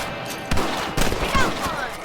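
Rifle shots crack out in a Red Dead Redemption game as rabbits are hunted, several quick reports over a dense bed of game music and ambience, with a character's voice nearby.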